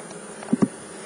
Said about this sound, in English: Never thought you'd see a bee riding on a video camera.